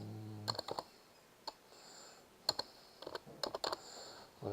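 Someone types on a computer keyboard, scattered quiet key clicks in small clusters, close and faint, with no talk.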